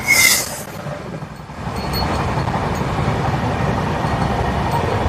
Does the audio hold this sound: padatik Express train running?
yes